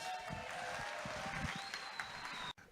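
Brief, thin applause from an audience at a live comedy show at the Hackney Empire, a short patter of clapping over a faint hum that stops abruptly.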